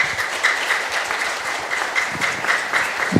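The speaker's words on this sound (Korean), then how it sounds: "한번 크게 박수 쳐주시면 감사하겠습니다" A high school audience in an assembly hall gives steady, sustained applause, a dense patter of many hands clapping with no one speaking over it.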